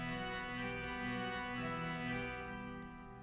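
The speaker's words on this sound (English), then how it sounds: "This is a much more brighter, aggressive organ." A bright, aggressive organ holds a rich sustained chord for a few seconds, full and steady, then tails off near the end.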